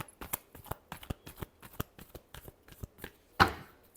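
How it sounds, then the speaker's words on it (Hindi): Tarot cards shuffled by hand in quick, crisp riffling bursts, a rapid irregular run of sharp close-up card snaps ending in one louder slap, quiet room with no talking. "last shuffle"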